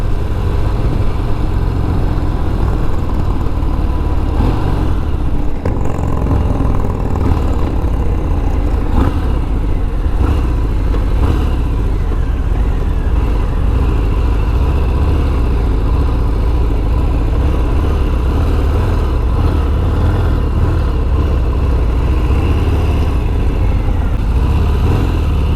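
A 2020 Harley-Davidson Fat Bob 114 motorcycle engine runs continuously on the road, a steady loud rumble with wind noise and no voices.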